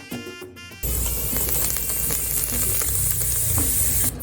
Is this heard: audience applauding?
no